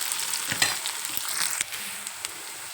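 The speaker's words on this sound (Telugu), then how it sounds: "ఇప్పుడు మనం బాగా కలుపుకోవచ్చు." A potato and brinjal curry sizzles in the pan while being stirred, with soft bright frying crackle and a few scraping clicks, fairly quiet and close.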